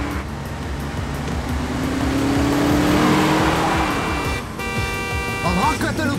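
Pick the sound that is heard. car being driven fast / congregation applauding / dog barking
car being driven fast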